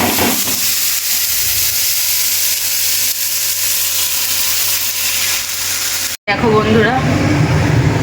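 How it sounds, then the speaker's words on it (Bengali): Potatoes fry in a pan with a loud, steady hiss and sizzle throughout, broken by a short drop near the end before the sizzling resumes. "আলু ভাজা হচ্ছে"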